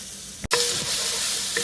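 Four cloves of garlic fry in a pan over turned-down heat, giving a bright, steady sizzle that swells after a brief stirring clatter, close and loud.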